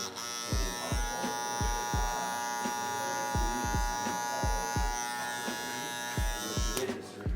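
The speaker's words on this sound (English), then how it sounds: "I'm gonna turn on my clipper and I'm gonna put my first guideline." An electric hair clipper buzzes steadily as it trims a long beard, the motor whine running throughout, broken by soft rhythmic thumps of passes through the hair, close up with no speech.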